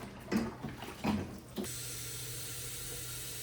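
Running faucet water splashes into a large canning pot in a kitchen sink, a few clunks and sloshes of washing, then a steady close hiss of water pouring.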